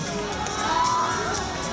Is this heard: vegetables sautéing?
no